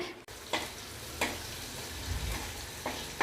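Hot tempering oil poured into yellow pumpkin kootu with karamani sizzles steadily in a pan, with soft recurring bursts of crackle and spatter at close range.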